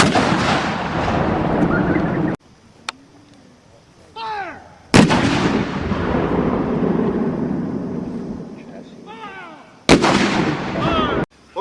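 Civil War cannons fire at a live artillery demonstration, three loud booming blasts that roll and echo for a couple of seconds each, separated by quieter gaps with faint birdsong.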